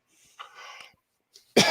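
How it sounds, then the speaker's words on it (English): During a live-streamed book discussion, one loud, sharp cough bursts close to the microphone at the very end, after a stretch of softer breathy rustling. "how dare you cough on my stream"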